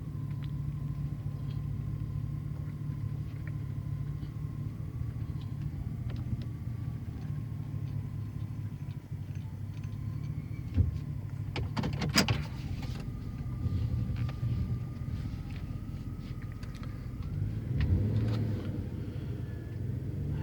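A 2007 Chevy Silverado truck engine idles with a low, steady rumble close by, with a few clicks and knocks from inside the cab and no voices.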